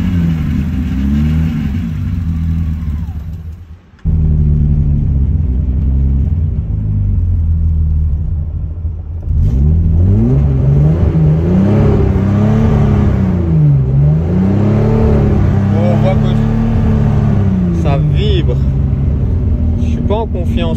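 Turbocharged BMW E36 engine running with a persistent abnormal noise, a loud steady idle rumble with rising and falling revs and a whirring undertone, briefly cutting out before resuming, with no talking.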